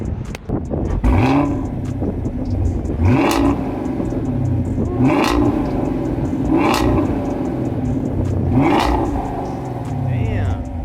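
A 2020 Dodge Charger 392 Scat Pack Widebody V8 rumbles close by, with four evenly spaced throttle blips rising over a deep idle while a voice talks on top.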